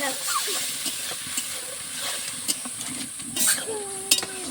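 Spices with turmeric frying in a pan for a chickpea snack, giving a steady close sizzle and hiss with occasional stirring scrapes and a few light clinks of a utensil.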